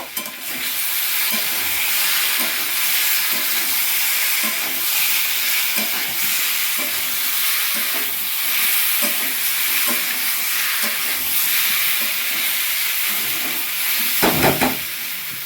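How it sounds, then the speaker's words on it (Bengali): Steady hissing sizzle of soybean curry cooking in a pan, with intermittent scraping and stirring strokes throughout, a few louder clatters near the end; no talking. "আর একবার নাড়িয়ে নেব।"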